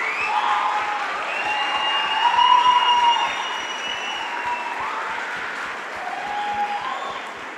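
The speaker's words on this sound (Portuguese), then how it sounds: "Uma salva de palmas para o Arthur." Sustained applause from a church congregation welcoming the youth pastor, steady dense clapping across the whole stretch with a slight swell midway and occasional tonal sounds above it.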